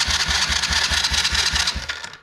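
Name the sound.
Chinese kids' quad engine cranking over with jump starter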